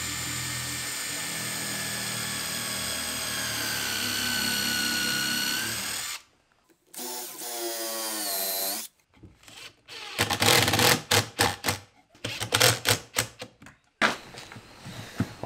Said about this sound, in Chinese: 这里我使用锁螺丝工法。